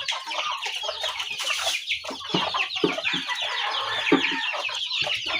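Chickens clucking inside a coop, a close, busy chorus of overlapping clucks and short calls from several birds, with no talk.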